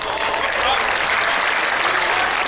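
Spectators at an indoor bowls national singles final break into steady, close applause after a good shot, a dense wash of clapping that fills the whole moment with no talk over it.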